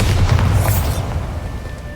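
Bombarda spell explosion in the Hogwarts Legacy video game: a loud, close boom with a bright crackling burst that rolls off into a fading rumble over about two seconds.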